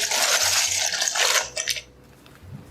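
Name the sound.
pasta being added to boiling water in a pot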